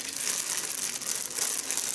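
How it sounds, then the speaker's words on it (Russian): Close, continuous crinkling of a small plastic bag being rustled by hand, crisp and busy throughout with no talking. "Тут пакетик, у меня этих пакетиков теперь. Ими можно пошуршать."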